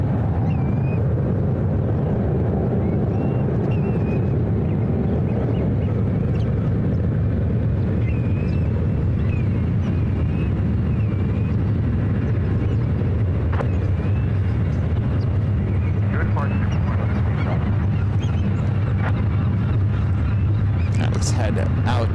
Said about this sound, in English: United A319 taking off on one left